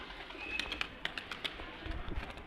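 Pigeons coo softly in a loft where new young birds are nearly ready to fly, with several low, faint calls repeated over quiet background noise.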